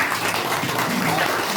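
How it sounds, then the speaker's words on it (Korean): Sustained applause from a seminar audience at a Korean gathering on the Wednesday protests, dense steady clapping filling the whole moment with some voices mixed in. "박수 한번 보세요."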